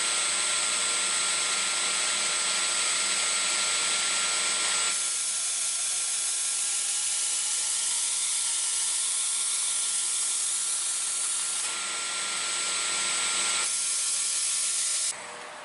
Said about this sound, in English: So now we have the blade sharpened.